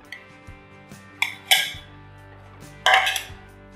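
A spoon scrapes and clinks against a bowl while mixing homemade vegetable pickle with oil, giving a few sharp metallic taps and scrapes spread across a quiet background.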